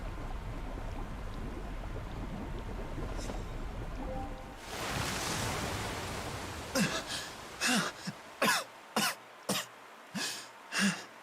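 Several sharp coughs in a quick irregular series, loud and close, following a stretch of hissing noise with no talk over them.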